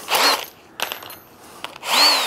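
A power drill bores into a wooden box for native stingless bees, two whining bursts with rising pitch at the start and end and a quieter scraping pause between, close and loud.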